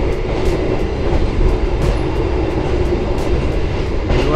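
Inside a moving Purwojaya passenger train car, a steady, loud rumble and rolling rail noise fill the space with faint periodic clicks, continuous throughout and with no talking.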